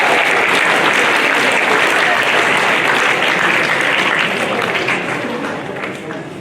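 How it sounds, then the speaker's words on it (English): A big round of applause from high school students at a National Day assembly, loud and dense, holding steady for several seconds before fading gradually toward the end. "big round of applause"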